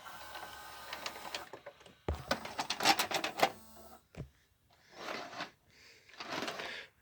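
Eject mechanism of a Symphonic SL2860 4-head hi-fi stereo VCR, close whirring motor bursts and mechanical clicks as the cam gear turns, with short pauses between movements.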